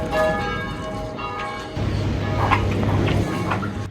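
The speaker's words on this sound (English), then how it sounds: "Sound of the bell is coming from any church." A church bell rings near the Vøringsfossen waterfall in Hardanger, Norway, its sustained ringing tones clear at first and then fading under a louder engine-like hum and background noise.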